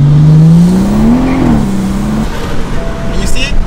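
A car with a new turbo pulls through a gradual acceleration, its engine note rising steadily and loud up close, then easing off into road and cabin noise while someone speaks over it.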